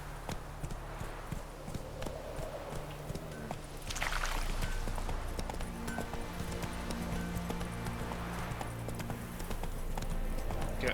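Roach, Geralt's horse in The Witcher 3 video game, trots with a rapid, steady clip-clop of hooves that runs throughout at close range over a constant ambient game bed, with no talk.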